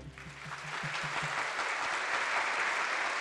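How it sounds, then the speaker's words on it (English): An audience at an academic forum applauds distinguished guests, a dense, sustained burst of many hands clapping that swells and holds steady at full volume. "Let us give us a round of applause to all the distinguished guests for joining us today."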